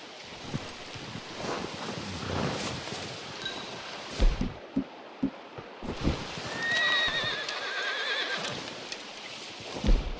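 A horse whinnies and its hooves clop in Red Dead Redemption 2, with a brief high neigh and scattered hoof thuds over wind and rustling outdoors, fairly close and alone without talk.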